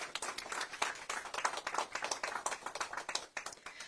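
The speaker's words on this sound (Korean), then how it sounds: "환영의 큰 박수를 보내주시기 바랍니다." A political campaign committee meeting audience gives a steady, dense round of applause to welcome a newly appointed co-chair. It is fairly distant and faint, with many hands clapping continuously and no talk over it.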